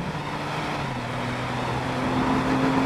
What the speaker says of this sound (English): the engine adds this high-pitched, frankly annoying whine